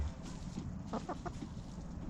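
Chickens cluck softly around a rooster with young hens, a few quick clucks standing out amid low farmyard ambience.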